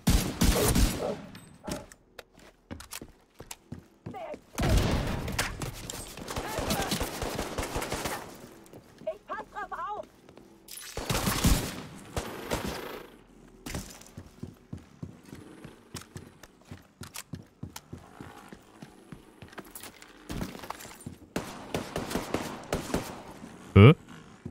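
Gunfire from The Division 2 comes in rapid bursts and scattered single shots, loud and close, separated by stretches where a player talks.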